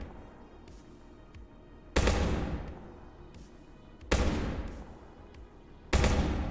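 Three heavy AK rifle shots in the game Prison Simulator Prologue crack out about two seconds apart, each loud and close with a long booming decay, over a quiet background.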